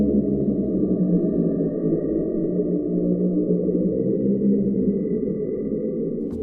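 A steady, droning resonant tone from a Red Solo Cup used as a contact mic, with reverb and pitch shifting giving a reverberant, pitched-down character, humming on continuously without pause or voices.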